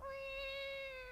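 Link meows like a cat in Zelda: The Wind Waker, a single drawn-out, slightly falling mew heard clearly, a voice imitating a cat.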